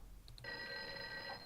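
A telephone rings in a video game, a quiet electronic ringing tone that starts after a couple of short chirps and holds steadily, heard alone with no talk.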